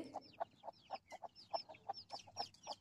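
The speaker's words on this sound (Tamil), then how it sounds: "கோழியெல்லாம் அதை சுற்றி மேய்ஞ்சிட்ருக்கு" Chickens clucking in short, repeated bursts at a steady pace as they forage around a tree in a home garden, fairly close, with no talking.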